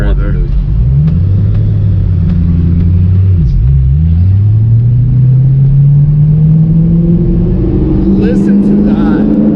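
A straight-piped 2006 Ford GT roars through a tunnel, its deep exhaust rumbling loud and close, dipping briefly, then droning steadily upward as the car accelerates, with the tunnel walls booming back the sound.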